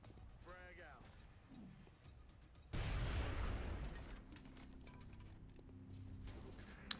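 A frag grenade goes off in XCOM: Enemy Within, a sudden loud blast that cuts in partway through and rumbles on, with voices talking before and during it.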